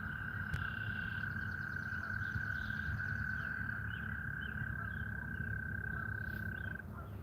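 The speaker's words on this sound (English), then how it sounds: "there's the frogs." Frogs croaking outdoors at a pond while carp fishing, a steady chorus of calls over constant low background noise, with a faint bird chirping now and then and no talking.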